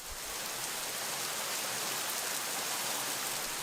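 Torrential rain pouring outside a workshop: a dense, steady roar of rainfall hissing on surfaces, constant and enveloping throughout with no pauses.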